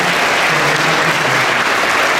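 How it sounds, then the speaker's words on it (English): An audience at a Sno Fest coronation ceremony applauds in a loud, unbroken wash of clapping that holds steady from start to finish. "Round of applause"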